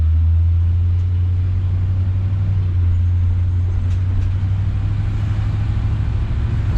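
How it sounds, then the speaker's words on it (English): A 1966 Ford Galaxie 500 convertible cruises through a neighborhood, its engine giving a steady, deep low rumble heard from inside the car, with no voices. "Just driving in the neighborhood, it runs so much better."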